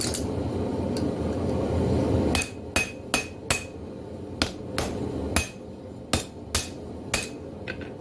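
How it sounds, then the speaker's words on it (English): A forged herb chopper blade is hammered flat on an anvil by a blacksmith, about ten sharp, ringing metal strikes in a steady rhythm after a couple of seconds of roaring forge background, with no talk. "putting it on the anvil, just hammering it flat"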